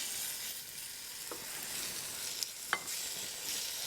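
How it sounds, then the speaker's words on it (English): Cut bacon rashers browning in melted butter in a pan for Irish lamb stew, a steady soft sizzle with a couple of faint pops, fairly quiet, no talking. "Now that the butter is melted, we're going to brown our cut rashers."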